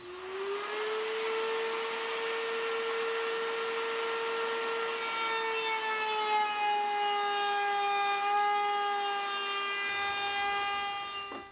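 A loud router cutting a mortise in wood gives a steady high whine with strong harmonics, the pitch shifting a little as the bit bites deeper before it spins down at the end.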